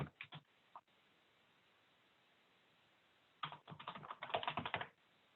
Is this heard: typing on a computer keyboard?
yes